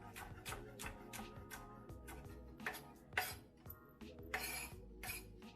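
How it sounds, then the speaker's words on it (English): A knife rough-chops a shallot on a cutting board in a home kitchen, giving a quick run of sharp, irregular chops and clicks that sound close and fairly quiet, with no talking. "So I'm just rough chopping my shallot"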